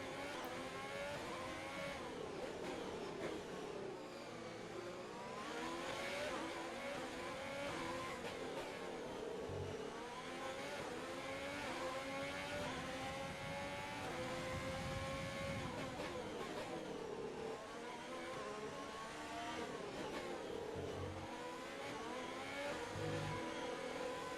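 Formula 1 race cars in the F1 2020 video game at the Singapore night race scream continuously, their high-pitched engines rising and falling through gear changes with steady loud revving and no pauses.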